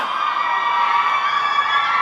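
A large audience at a Thai film press event screams and cheers loudly and continuously, a dense sustained high-pitched roar of many voices without a break.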